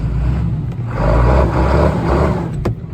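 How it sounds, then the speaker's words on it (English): John Deere tractor engine running nearby, a steady low diesel rumble with a slight swell in revs, alone without talk. "Just gonna move the John Deere out of the way so we can get the Xerion out, and Charlotte's gonna have a go driving it"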